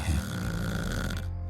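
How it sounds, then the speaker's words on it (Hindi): Loud snoring comes from an elderly father sleeping in his room: one long, rough, rumbling inhale with a throaty rattle. It is close and heavy and cuts off abruptly at the end, with no speech. "बाबूजी के कमरे से जोर जोर से खर्राटों की आवाज आ रही है।"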